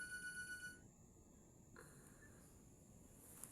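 A phone alarm rings in a tonal, electronic pattern, loudest for the first second then fading into a quiet room, with soft shuffling afterward.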